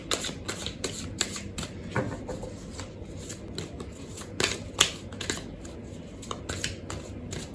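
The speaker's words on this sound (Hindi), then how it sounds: "तो चलिए पिक करते हैं कार्ड्स।" A tarot deck is shuffled and cards are picked, giving a steady run of crisp riffles, snaps and taps close to the mic with no voices.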